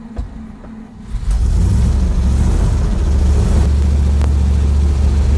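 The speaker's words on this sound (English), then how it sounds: "Запуск мотора." A ZIL 130 fuel truck engine cranks briefly, then catches and settles into a loud, steady low rumble that runs without a break to the end, with no voices.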